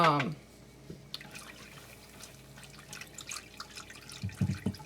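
Kombucha mixture poured into hot melted soap oils in a crock pot, a brief splash at the start followed by soft trickling and dripping, close and fairly quiet, with faint voice sounds near the end.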